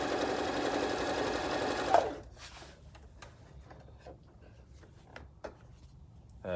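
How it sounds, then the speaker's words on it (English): Janome 725s sewing machine stitching through four layers of fabric, a steady dense buzzing whir for about two seconds before stopping, followed by quieter handling clicks and rustles. "That's going through four pieces of fabric there. The machine is not going to skip a beat at all. It is just stitching beautifully."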